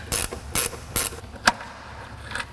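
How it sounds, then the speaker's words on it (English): A gear wrench ratchets on a loosened nut while parking brake cables are fabricated, giving a handful of sharp metallic clicking bursts spaced about half a second apart, close and clear, then fading. "Now that the nut is loose, I can actually use the gear wrench."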